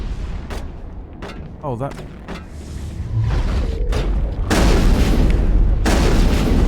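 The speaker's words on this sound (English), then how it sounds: "Who's shooting at us?" Gunfire from the Mass Effect video game: sharp repeated shots and booming bursts, loud and dense, building into heavy continuous firing toward the end, with a voice talking over the start.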